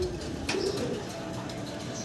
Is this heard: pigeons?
yes